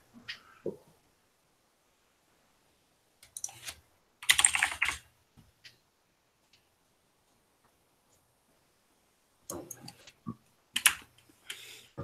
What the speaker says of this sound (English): I gotta type you a message.